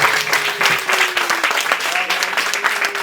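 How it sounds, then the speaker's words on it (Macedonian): Audience applause at a stage promotion event, a rapid patter of clapping that fills the whole clip while a voice talks over it. "Мислам дека аплаузот доволно кажува за тоа колку ви се допаѓа"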